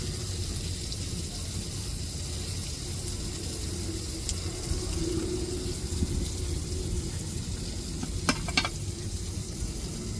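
Tomatoes with a pinch of salt sautéing in a pan, a steady close hiss of sizzling throughout with faint scrapes and a couple of brief clinks near the end.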